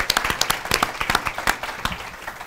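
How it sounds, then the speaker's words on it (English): A few audience members clap for Jim Lewis at a USC Price speaker series event, sparse, distinct hand claps at an uneven rhythm, fairly close and not a full crowd. "So could we give Jim a round of applause?"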